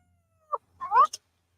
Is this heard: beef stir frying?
no